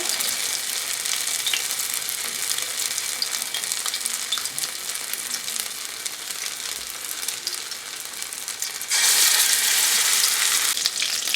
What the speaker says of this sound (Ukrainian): зараз буду робити котлетки і пробувати жарити